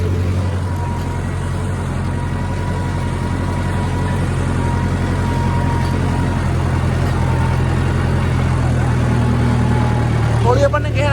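Sonalika 4WD tractor engine held at 1600 rpm while pulling a cultivator or plough, a constant low loud drone with a steady hum and no breaks, a voice briefly audible near the end.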